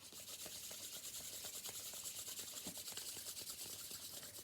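Two hands rub briskly together in a steady, continuous soft hiss, close and quiet, with no talking over it.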